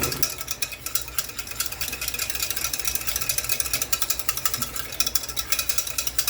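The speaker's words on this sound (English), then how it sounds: "Bringing in the help of the old whisk. Scrape it all off in there." A whisk scrapes the bottom of a pan over low heat while country fried steak gravy is made. The scraping and stirring is steady, rough and continuous, close by, with no talk.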